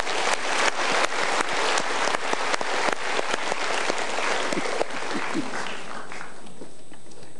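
Enthusiastic applause from a seminar audience, sharp sustained clapping that is loud at first, then thins out and tapers away toward the end as the room settles and a voice starts to emerge.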